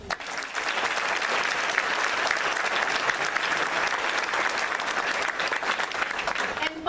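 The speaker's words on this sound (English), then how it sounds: "while they are not here, let's applaud" Steady, dense audience applause at a police service dog graduation ceremony, sustained clapping from a sizable crowd at even loudness for the whole stretch.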